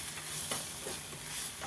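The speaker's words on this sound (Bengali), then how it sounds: "ভালো করে আমি মিশিয়ে নেব।" Ground spices including cumin powder being stirred together in a frying pan, producing a soft, steady sizzle with faint scraping strokes, quiet and close, with no talking.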